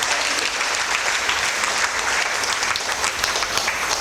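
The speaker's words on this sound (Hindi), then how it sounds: "तालियां बजाने का।" An audience at a Narayan Reiki family satsang claps together in a dense, steady burst of applause that holds at an even level throughout, with no talking over it.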